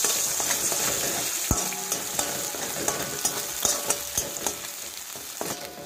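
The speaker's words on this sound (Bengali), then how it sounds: "এটাকে ভালো করে ভেজে নেব" Salted beaten eggs fry in a hot pan with a steady close sizzle, punctuated by repeated light scraping and tapping as they are stirred and broken up, no voices present.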